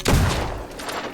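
Gunfire from Fable II in a shooting gallery at cardboard targets: a sharp burst of shots up front, then a lingering rattle and echo that slowly fades.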